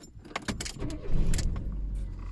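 A car engine is cranked and restarted after stalling, set outdoors in a dry, dusty field; a brief rattling crank and clatter gives way to a low, steady idle rumble close by.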